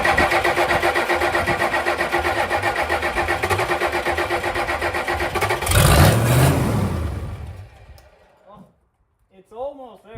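A car's diesel engine cold starts, cranking and running rough and loud for several seconds, then surging and shuddering before falling quiet; a voice speaks briefly near the end.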